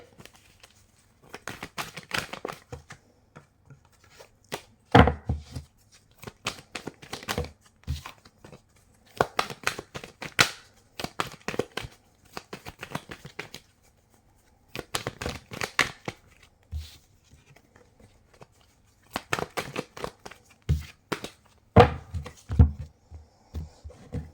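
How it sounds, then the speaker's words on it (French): Tarot cards shuffled by hand in bursts of riffling and crisp card slaps, with short pauses between rounds, close and moderately loud with no talking. "Je vais bien mélanger."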